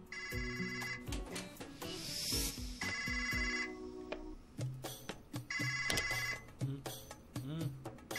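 A telephone rings in repeated electronic bursts with short gaps between them, fairly faint and set against a busy background of other sounds.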